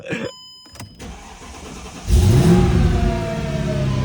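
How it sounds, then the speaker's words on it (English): A supercharged V8 Mercedes-AMG engine cranks and catches, then revs up loudly with a rising supercharger whine and settles into a rough, throaty idle close by. "You can hear the supercharger a lot."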